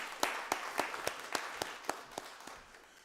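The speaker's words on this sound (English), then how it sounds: "Give her a round of applause" A few sparse, evenly spaced claps at a county board of commissioners meeting, quiet and thinning out, with no talk over them.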